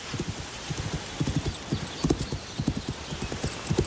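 Horse hooves clip-clop steadily at close range in a rhythmic walking pattern, with a brief whinny-like note partway through, in a ranch setting.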